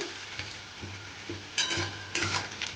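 Onions frying in a pan while being stirred, for a cauliflower and katla fish curry, with a steady faint sizzle, regular soft scrapes of a spoon and a few brighter clinks, no voices.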